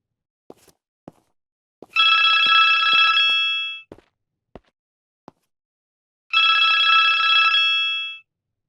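A telephone rings in the horror video game Cursed Feed: two loud electronic ringing bursts of about two seconds each, separated by silence and scattered light footstep-like clicks.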